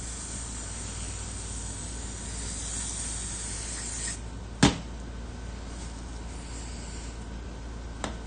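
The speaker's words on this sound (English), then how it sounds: "This just needed to be sprayed off a little bit on one side here." An aerosol spray can hisses steadily onto a rusty lock part for about four seconds, followed by a sharp knock and later a smaller click, close and fairly quiet.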